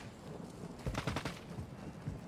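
Distant sniper gunfire in a video game: a short burst of several muffled cracks in quick succession, faint against a low rumbling background.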